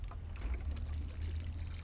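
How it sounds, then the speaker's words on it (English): Water pours gently onto the base of tomato plants affected by white fungus in a garden, a soft continuous trickle close by, with no talking. "So we're just going to water it at the base, misting lightly off the leaves,"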